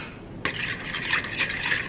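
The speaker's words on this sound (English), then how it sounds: "Gonna give that a little stir." A spoon stirs flaxseed into zucchini bread batter in a bowl. The scraping, swishing strokes begin abruptly and run on close and steady.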